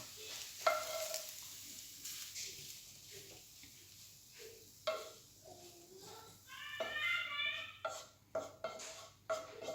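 Vegetables sauté in a pan for fried rice, a faint sizzle broken by scraping stirs and clinks of a utensil, with intermittent bursts of louder frying.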